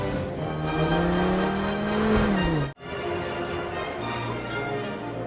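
Race cars from the animated film Cars roar past in a steady, loud engine drone with rising pitch, a brief cut to silence, then continued racing engine noise.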